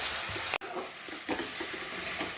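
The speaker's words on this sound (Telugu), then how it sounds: "2 టమాటాలు బాగా మెత్తగా మ్యాష్ అయ్యేటట్టు ఫ్రై చేసుకోవాలి ఆయిల్లో" Two tomatoes fry in hot oil for a prawn curry, a dense, loud, close sizzle with a brief break and a few soft stirring knocks, with no talking.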